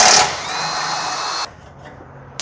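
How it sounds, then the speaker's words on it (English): A power wrench whirs loudly for about a second and a half while loosening an 18 mm bolt on a Nissan Rogue lower control arm, then cuts off, leaving a quiet background. "So now we're gonna hold the wrench and remove that bolt."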